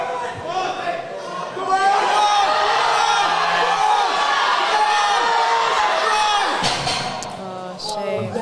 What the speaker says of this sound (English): There's quite a big crowd.